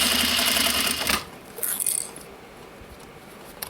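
A sewing machine stitches a recycled denim pouch near a zipper in a dense burst of about a second, then stops. A few light clicks and rustles follow in quiet.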